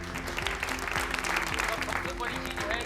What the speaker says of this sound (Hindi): एक बार जोरदार तालियां होनी चाहिए फॉर प्रेम जी